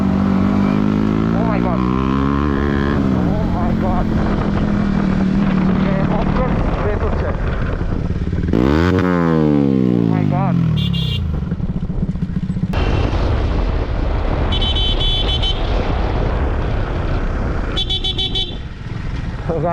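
Sports motorcycles ride past on a town road, engines revving and rising and falling in pitch as they go by, with horns and a voice talking over the traffic.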